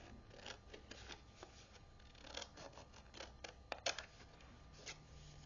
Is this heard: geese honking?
no